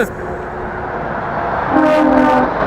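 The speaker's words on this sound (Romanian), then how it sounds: "Ce claxon fain are." A train horn sounds at moderate distance, a sustained harmonic blast over the rumble of rolling rail cars, with faint voices in the background.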